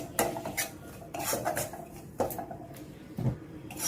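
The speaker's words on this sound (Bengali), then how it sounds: "সুজিটাকে একটুখানি নেড়ে নিই খুব সামান্য আস্তে আস্তে নেড়ে নিয়ে" Semolina stirred in a pan with a metal spoon, a few close scraping and clinking strokes against the pan in an uneven rhythm, no speech.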